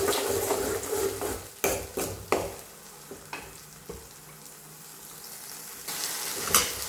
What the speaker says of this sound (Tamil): பூண்டு எல்லாம் அரைச்சிதான் அதை தூக்கி இதில் போடுறேன். போட்டு வதக்கணும்.